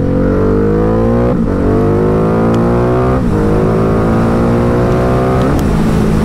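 A Ducati Diavel 1260 motorcycle without a quickshifter revs hard and loud, its engine note climbing steadily, then dipping briefly with each downshift before rising again, three times in a row.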